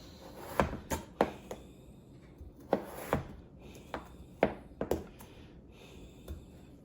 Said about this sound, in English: Now the rest of the potato into 1/4 inch slices.